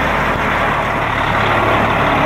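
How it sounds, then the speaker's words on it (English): Heavy digging machine engine already running at a steady loud rumble with a constant low drone, no clear start-up moment, on a hot day, with no talk. "So now, Janet, machine starts right away."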